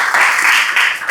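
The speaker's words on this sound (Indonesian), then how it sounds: "tepuk tangan untuk Mbak Zakia." A classroom audience breaks into a short burst of applause, many hands clapping together in a dense, loud wash that fills the moment with no talking.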